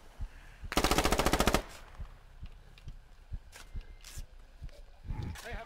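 Gunfire in the military shooter game Squad: a close, loud rapid burst of automatic fire lasting under a second, followed by scattered footsteps and faint movement noises.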